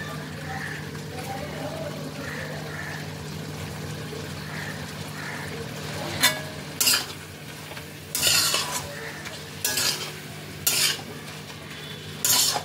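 A utensil stirs kachki fish curry with potatoes and chopped coriander in a pan, making a soft steady scraping under a low sizzle, with several louder scrapes and clinks near the end.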